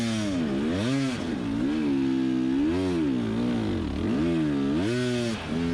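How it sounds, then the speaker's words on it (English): Enduro dirt bike engine at a hard enduro race labors loudly up a steep, slippery muddy slope, its revs rising and falling in repeated strained surges with no break, close and dominant throughout. "You can hear that bike just working so hard. Just trying to get up this."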